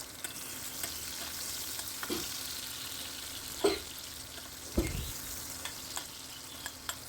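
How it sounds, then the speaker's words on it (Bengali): Chopped onion frying in hot mustard oil, a quiet steady sizzle with a few louder stirring scrapes spaced a second or so apart, close by. "পেঁয়াজটাকে দিয়ে তেলের মধ্যে কয়েক সেকেন্ড নাড়িয়ে নেব"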